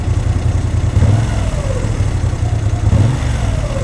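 A Moto Guzzi V7 III motorcycle engine, heard at night in London, is revved twice on the throttle, each rise swelling over a steady low idle rumble, close and loud.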